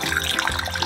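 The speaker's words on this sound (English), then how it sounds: "Now we are going to take our hot water, put it into the pan" Hot water splashes and gurgles as it is poured into a pan in a kitchen, a steady close liquid rush lasting under a second.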